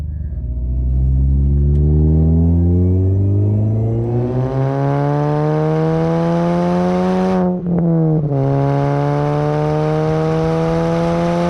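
Supercharged Mini Cooper S R53 engine revving hard under acceleration, loud and close, rising through the gears with a brief dip at a shift before climbing again; no talking.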